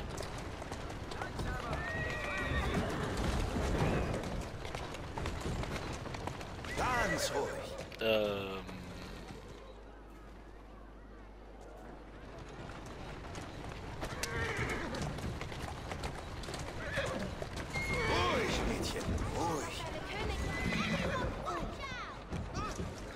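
A carriage horse in Assassin's Creed Syndicate's Victorian London clops along the street and whinnies, the steady hoofbeats and neighs running under near-constant excited talk, with a quieter pause in the middle.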